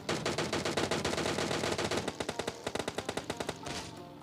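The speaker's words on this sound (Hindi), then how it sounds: "गनशाउट्स की आवाज़ आती है मुझे यहाँ पे" Rapid automatic gunfire in a video game, during a solo-versus-squad match, rattles in a long sustained burst, then slows into distinct, evenly spaced shots before fading, loud with no talking.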